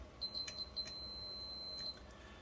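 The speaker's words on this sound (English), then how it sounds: "you should hear a beep." A multimeter continuity tester on an RC aircraft battery setup gives a few short, faint high beeps followed by a sustained tone of just over a second, with no other sound around it.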